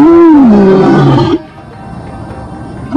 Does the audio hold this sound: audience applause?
no